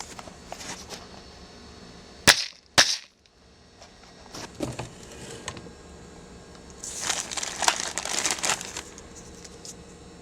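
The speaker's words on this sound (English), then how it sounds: "We'll drop our powder charge." Shotshell reloading press for a .410 dropping a powder charge, with two sharp metallic clacks of the press lever followed by a soft granular rustle of powder pouring, all close by.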